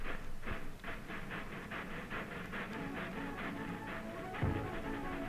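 A steady chugging cartoon train rhythm of regular puffing beats over a rumbling background, with a couple of sharp clanks.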